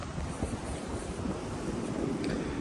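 Steady wind blowing across an open ridge on the Appalachian Trail, a loud, continuous roar buffeting the microphone with no break.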